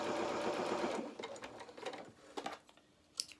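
A sewing machine runs a basting stitch on an elastic baby doll shoe, a steady close whir for about a second, then stops, followed by faint mechanical clicks and handling ticks.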